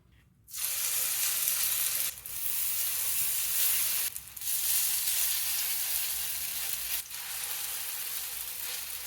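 Bread kebabs frying in a pan of hot oil on a stove: a steady, close, broadband sizzle that runs almost unbroken for the whole stretch, with a few brief dips, and no talking.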